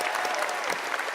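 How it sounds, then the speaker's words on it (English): Live convention audience in a hotel ballroom applauds continuously, a dense wash of claps filling the whole moment without pause. "Actually, give Katie a round of applause."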